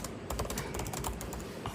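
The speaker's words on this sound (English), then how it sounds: "let's say I was typing a message to someone" Rapid keystrokes on a computer keyboard as a message is typed, close and steady with irregular clicking rhythm and no talking.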